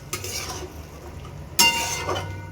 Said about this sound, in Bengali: ছোলা আর আলুটাকে অ্যাড করে নিয়েছি। আর এটাকে ভালো করে মিশিয়ে